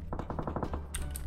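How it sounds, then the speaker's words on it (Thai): Rapid burst of automatic gunfire in a video game, about eight quick shots in a tight rhythm followed by a sharper crack, moderately loud and close with no talking over it. "เสียงปืนอยู่หน้าเรา"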